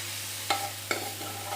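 Okra sizzles steadily in a hot pan, with two brief scraping stirs cutting through the constant frying hiss. No one speaks.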